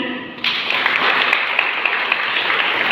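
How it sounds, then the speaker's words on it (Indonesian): Applause from a school audience at a Catholic elementary school event breaks out suddenly after a short spoken cue, then continues as steady, dense clapping that fills the room. "silahkan tepuk tangan."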